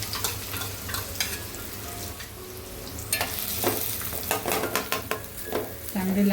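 Chopped medium onions sizzle steadily as they are stirred in a hot pan for egg and potato bhaji, a continuous close frying hiss with scraping spoon strokes and no talking.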